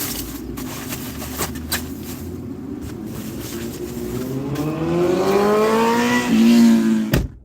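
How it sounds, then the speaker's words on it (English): A noisy motorcycle passes by with a steady engine drone that rises in pitch and loudness as it nears, peaks, then cuts off sharply, with no talking. "Wow, somebody had a real noisy motorcycle there."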